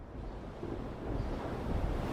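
Storm sound effect of waves and wind on a lake, a steady dense wash of surf and gusting air that swells slightly toward the end, with no voices.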